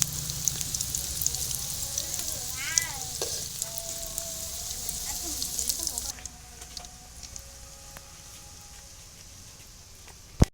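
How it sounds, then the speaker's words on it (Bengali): Egg balls deep-fry in hot oil with a continuous crackling sizzle and occasional stirring scrapes. The sizzle softens partway through and ends with a sharp click. "আমার ডিমের বলগুলো ভাজা হয়ে গেছে"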